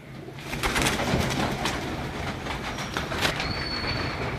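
Breeder pigeons coo softly in a loft, steady and close under a constant background hum.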